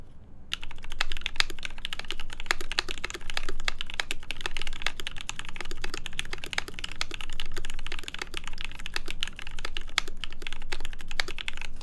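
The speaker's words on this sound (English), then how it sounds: "Oh, is that spacebar so clacky?" A clacky, loud computer keyboard spacebar and keys typed in a rapid, continuous stream of close, sharp clicks, with no talking.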